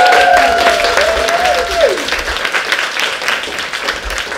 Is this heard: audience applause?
yes